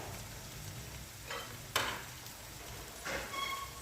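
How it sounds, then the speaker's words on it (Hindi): Chicken and onions fry in a pan, a soft, continuous sizzle broken by a few brief bursts of stirring and scraping, close and fairly quiet. "तब तक भूनेंगे जब तक चिकन जो है अपना कलर चेंज नहीं कर लेता और प्याज जो है वो गोल्डन नहीं हो जाते"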